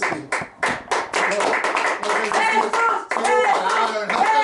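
Church congregation clapping together in worship, a dense sustained applause with voices mixed in, loud and close throughout.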